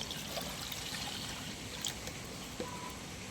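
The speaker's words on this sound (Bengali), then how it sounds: "এবার কড়ার মধ্যে আমি জল দিয়ে দিচ্ছি" Water pours into a kadai cooking pan set on the stove for boiling raw mangoes, a steady close splashing rush with no talk.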